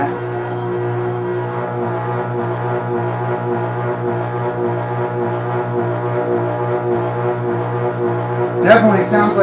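Stone sphere making machine in a home workshop vibrating loudly, a steady droning hum with strong low harmonics running throughout, with a brief clatter near the end.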